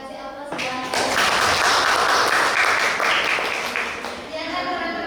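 A classroom of students gives a round of applause in an English teaching lesson, a dense, steady clapping that swells and holds for several seconds before easing off, with voices mixed in.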